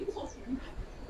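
Close, soft cooing from Bezi-line pigeons offered for sale, low murmuring bursts running almost continuously, with faint background noise.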